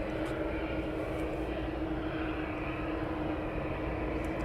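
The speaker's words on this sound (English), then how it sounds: "this is the UPS that took off earlier on" A UPS cargo jet at East Midlands Airport produces a constant, low, droning engine rumble with a faint steady whine, moderately distant and unbroken throughout.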